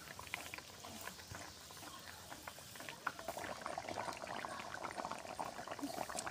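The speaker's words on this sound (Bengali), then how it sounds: "এখন ভালো করে জাল দিয়ে নেব" A mustard-paste fish curry broth simmering in a pan, a faint, steady bubbling and soft popping that grows slightly busier toward the end.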